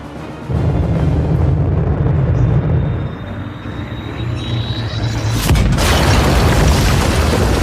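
A satellite-turned bomb explodes in the video game Aliens: Dark Descent. A low rumble with a thin rising whine builds up, then a heavy, loud boom hits and lingers as a roaring rumble.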